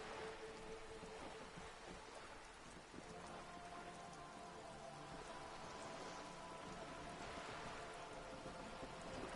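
Steady rain pours down in the video game Disco Elysium, a dense continuous hiss of drops striking surfaces that holds level throughout, with a soft musical tone underneath and no talking.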